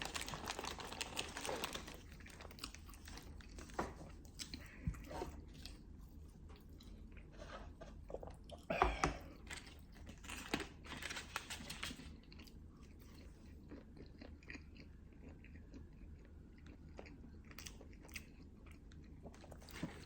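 Someone bites and chews a Burger King burger with a meat patty, wet close-up mastication and soft crunches repeating steadily for about twenty seconds, with no talking over it.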